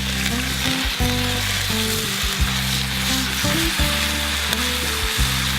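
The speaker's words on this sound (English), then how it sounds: "you just put a little oil in your pan and cook them over. First up are our potatoes" Potatoes fry in a little oil in a pan over a campfire, giving a constant close sizzle broken by repeated knocks and scrapes of stirring in the pan.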